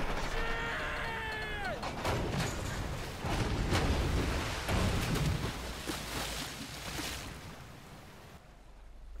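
Train explosion in GTA 5, a deep booming blast with rumbling debris and crackling impacts rolling on for several seconds, following a brief screeching tone at the start, then fading away.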